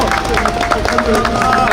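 At a memorial park gathering, a group claps steadily amid lively crowd chatter and voices, close and loud for a short burst.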